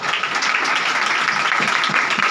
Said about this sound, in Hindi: ज़ोरदार ताली, तालियां नहीं, ज़ोरदार ताली, कुव्वत के साथ, जोर के साथ।